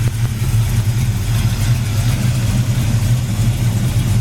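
A 454 V8 in a 1968 Chevy Chevelle Malibu idles steadily with a deep, continuous low rumble, close and loud, with no voices.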